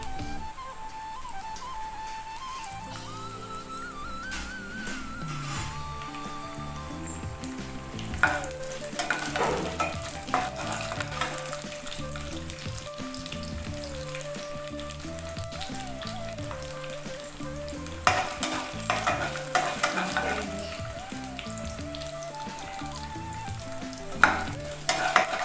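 Garlic and urad dal fry steadily in hot oil in a pan for a radish chutney, a continuous close sizzle with bursts of louder crackling and stirring scrapes, under quiet background music and no talking.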